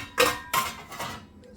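Clean steel pots and thali plates clink and clatter as they are lifted out of a dishwasher, three sharp metallic knocks close by at a steady rhythm, each fading quickly, with no talk.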